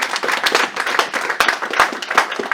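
A church congregation claps together during a Sunday service, a dense burst of quick hand claps ringing through the room for a few seconds, lively and close, with no voices over it.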